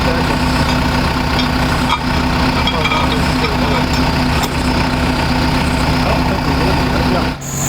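A tractor engine idles and works steadily while its forks and a strap lift an 800-pound concrete block outdoors at dusk, a loud continuous low rumble throughout with only slight dips in level.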